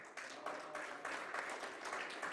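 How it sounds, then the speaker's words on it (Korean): Applause from an audience at a Democratic Party joint campaign rally in Gangwon, a steady wash of many hands clapping at moderate distance with no break, fairly soft overall. "박수를 보내주십시다"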